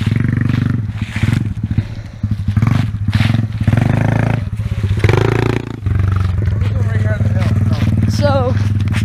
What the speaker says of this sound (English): Dirt bikes.